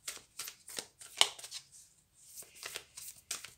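Oracle cards being shuffled by hand, a run of quick riffling bursts in close rhythm with a short pause midway, soft and near, no talking.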